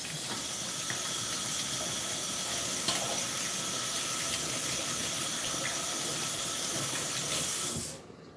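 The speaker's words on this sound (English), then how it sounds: "Wash hands." Tap water runs steadily into a sink while hands are washed in a home kitchen, a close, continuous hiss that holds for several seconds and then cuts off.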